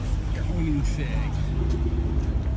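A sports car engine rumbles low and steady as it rolls slowly through a parking lot in Malibu, with people talking over it.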